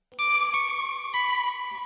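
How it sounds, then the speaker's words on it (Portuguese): Lead guitar melody soaked in effects, from an Afrobeats and Kizomba beat, plays as sustained bright notes with a few note changes, close and fairly loud over a short two-second phrase. "esta melodia veio da guitarra principal, inventei aqui um monte de efeitos"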